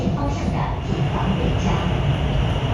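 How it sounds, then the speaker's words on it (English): A metro train racing at well over 100 km/h on the Guangzhou line near Zhujiang New Town, heard from inside as a loud, steady roar and rumble with faint rhythmic rail clatter throughout. "That's pretty fast for a metro train."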